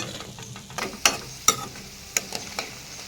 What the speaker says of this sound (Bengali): পরের বুন্দিয়াগুলো আমি এরকম লাল লাল করে ভেজে নেব